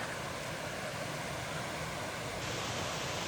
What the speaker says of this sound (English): The weir rather, not waterfall, the weir at the bottom of Wyming Brook.